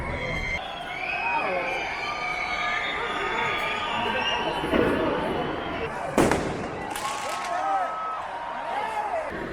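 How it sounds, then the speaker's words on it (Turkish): Fireworks and firecrackers exploding at a New Year's Eve celebration in a European city, continuous crackling and bangs with two sharp louder blasts, over crowd noise, shouting and nearby talk. "Bir takım havai fişekler ve bomba dedikleri şeyler aslında burada."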